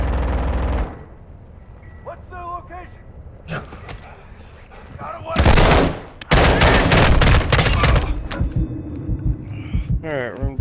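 Bursts of automatic gunfire in the Call of Duty MW2 DMZ video game, loud and sustained volleys in the second half after quieter stretches, with voices talking over the fighting.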